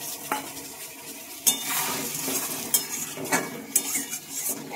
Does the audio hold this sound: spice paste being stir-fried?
yes